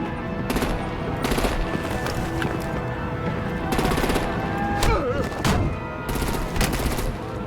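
Artillery and heavy gunfire in the video game Batman The Enemy Within, loud rapid bursts of shots repeating over several seconds against a dense battle din.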